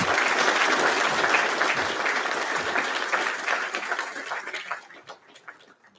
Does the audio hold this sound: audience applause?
yes